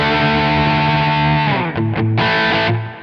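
An electric guitar played through a Quad Cortex on a crunch drive tone, loud sustained distorted chords that shift and ring out with a few quick changes near the end.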